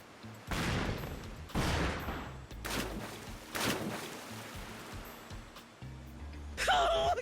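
Pirate ship cannons firing in a Pirate Yakuza in Hawaii battle, a series of about five heavy booming blasts at irregular intervals, each with a rumbling tail, followed by a brief voice at the end.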